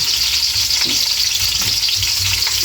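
Garlic frying in hot oil until browned and crispy for homemade bopis fills the air with a loud, dense, continuous sizzle and crackle, close up and unbroken, with no talking.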